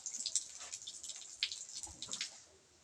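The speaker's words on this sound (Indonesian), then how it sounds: "Kita bilas." Water splashing over hands being rinsed at a sink during a handwashing demonstration, soft irregular drips and splashes, faint and close, fading out near the end.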